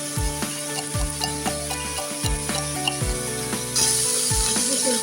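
Vegetables and greens frying in oil with potato, a steady sizzle broken by repeated rhythmic thuds and scrapes of stirring, close and fairly loud, with a brighter hiss swelling near the end.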